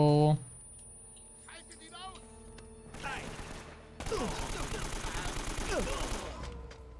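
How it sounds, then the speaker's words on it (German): Gunfire in the video game Uncharted 3: Drake's Deception: a few scattered shots, then a dense rapid fusillade of automatic fire, with a voice talking over the game. "Vielleicht waren das auch einfach nur meine Schüsse."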